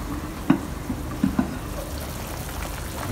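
A soft, steady bubbling simmer with a few faint pops and crackles, like a pot of Chinese meatball and cabbage soup gently boiling close by.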